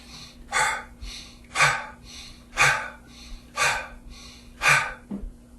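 Breath of fire breathing exercise: five sharp, forceful breaths repeat in an even rhythm about once a second, close and clear against quiet, with a faint hum underneath.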